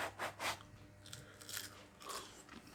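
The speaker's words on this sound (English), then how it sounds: "Let me have the crunchy bit." Crunchy bites into a piece of home-cooked dinner, two loud close crunches early on followed by softer chewing and crackling.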